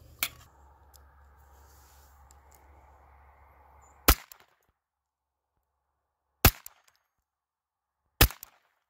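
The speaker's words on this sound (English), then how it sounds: "Don't use a 22 to destroy a hard drive that has data on it." Three sharp gunshots from a Ruger SR22 .22 pistol fired at hard drives outdoors, loud isolated cracks spaced about two seconds apart, preceded by a fainter shot and low background rumble.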